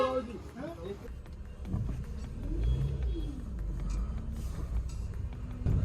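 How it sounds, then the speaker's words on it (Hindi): A Honda Civic drives on a test drive after a steering rack and pump repair. Engine and road noise hum steadily from inside the car, with rising engine tones and a voice talking over it. "बाकी एक बार चलते हैं अभी टेस्ट ड्राइव पे और चेक करते हैं गाड़ी को कि ओके चल रही है नहीं चल रही"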